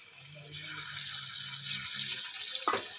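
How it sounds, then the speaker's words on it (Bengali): Potato pakoras deep-frying in hot oil give a steady, bright sizzling hiss throughout, with a faint low voice murmuring underneath. "এভাবেই আমি ভেজে নেব পকোড়াগুলো।"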